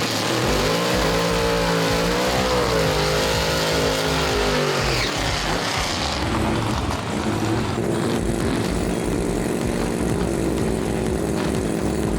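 Drag racing car with a clutch and 4-speed Lenco transmission at a grudge drag racing event, engine loud and close, revving up through rising gear changes and roaring steadily without talk.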